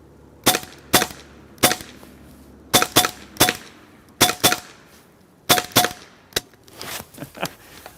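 Sharp, snappy cracks from a Hasan semi-automatic .22 caliber 5.5mm PCP air rifle, fired in quick pairs and short bursts with brief pauses, about fifteen close shots with faint metallic pings at the target.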